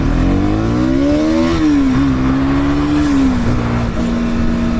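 An NS motorcycle engine on a Sri Lankan road drops a gear into a corner, its steady drone climbing with a rev blip and then holding a smooth, even pitch close to the microphone.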